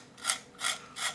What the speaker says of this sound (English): Let me get a nice pencil point on this.